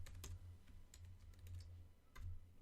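Quiet typing on a computer keyboard while coding a WordPress theme: a few scattered keystroke clicks over a low steady hum, with no talking.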